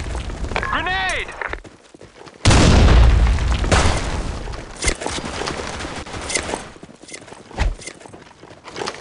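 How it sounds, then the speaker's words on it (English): A grenade blast in the shooter game BlackShot, a sudden loud boom that rolls into a long rumbling decay, with gunfire and scattered game noise around it and a short synthetic chirp just before. "Grenade."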